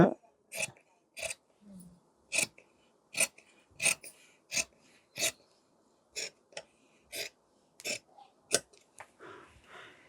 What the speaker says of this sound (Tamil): இதை முதல்ல கரெக்டாக கட் பண்ணிக்கோங்க